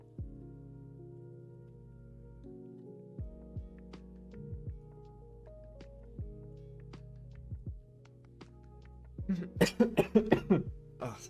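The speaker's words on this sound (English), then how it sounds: "Oh, sorry for the coughing." A man coughs several times in quick succession near the microphone, a loud burst of harsh coughs over a quiet background of steady tonal game music.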